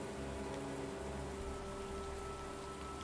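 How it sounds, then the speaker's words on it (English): Steady, even hiss of rain in Empire: Total War with a low constant hum beneath, unbroken and fairly soft throughout. "for some reason I can hear the sound of the rain"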